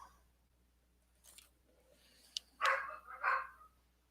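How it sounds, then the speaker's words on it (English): A grumpy dog lets out a few short, low grumbling barks nearby after a quiet stretch with a faint click, two louder bursts standing out near the end. "I think Daddy just ticked off the dog"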